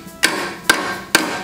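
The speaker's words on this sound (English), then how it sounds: "take a hammer and tap that clip in there." Three sharp, evenly spaced hammer taps, loud and close, seat a clip on the primer of a Tecumseh 6hp engine.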